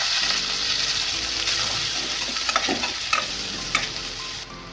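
Loud sizzling of chopped onions frying in hot oil for a tempering, with scraping stirs from a spatula now and then, close and steady throughout.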